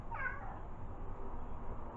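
A house cat meows insistently to be let outside on a rainy day, a single drawn-out, moderately loud cry near the start that fades into a quiet room hum, with no talking.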